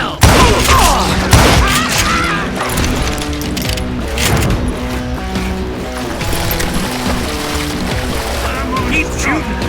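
Gunfire from the Call of Juarez Gunslinger video game, loud, with repeated shots amid dense game music and effects, with a voice talking over it throughout.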